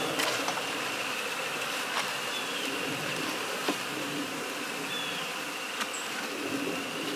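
Honey bee colony at the hive in spring makes a faint, steady buzzing hum, with individual bees occasionally flying close past.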